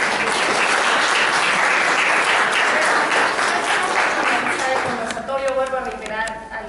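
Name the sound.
applause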